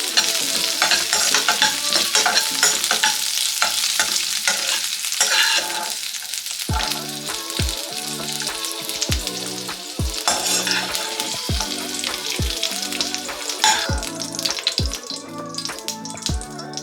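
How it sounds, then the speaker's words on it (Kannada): Okra (bhindi) frying in a kadai, a loud continuous sizzle with repeated stirring scrapes and clanks of a spatula against the pan, no voices. "ಲೈಟಾಗಿ ಕಲರ್ ಚೇಂಜ್ ಆಗುವಷ್ಟು ಇದನ್ನ ಫ್ರೈ ಮಾಡ್ಕೊಂಡ್ರೆ ಸಾಕು"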